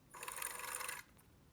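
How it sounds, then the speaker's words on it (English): A sewing machine runs in one short burst of about a second while top stitching binding around an armhole, a close, fast rattling whir that stops abruptly, followed by quiet. "just top stitching the binding around the armhole the way we normally do it"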